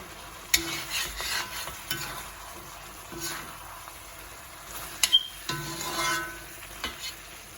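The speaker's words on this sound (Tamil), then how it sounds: "இந்த இறைச்சி தூள் போட்டு அப்படியே ஒரு நிமிஷம் வதக்கினா காணும்" A spoon scrapes and stirs meat curry spice powder in a pan for Jaffna-style mutton curry while it sizzles and fries steadily, with occasional metallic clinks against the pan.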